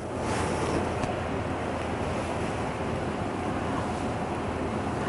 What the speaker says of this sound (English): I will use this air hose to change the pressure.